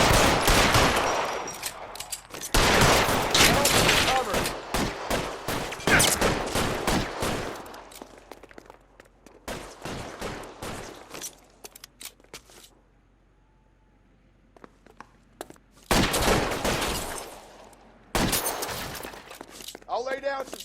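Gunfire in the video game L.A. Noire, repeated loud bursts of rapid shots separated by short pauses, with voices speaking between volleys.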